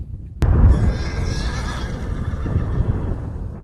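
Horse neighing in a field, a loud close whinny that starts abruptly and trails off over a few seconds, alone with no talk.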